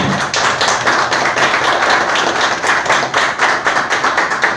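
A crowd applauds at a formal public gathering, a dense and steady wash of many hands clapping close by for several seconds with no talking.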